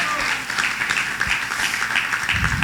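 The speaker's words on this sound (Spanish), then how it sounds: "Give an applause to the Lord." A church congregation claps for the Lord during a bilingual Spanish-English sermon, a dense continuous burst of hand clapping with some voices mixed in underneath.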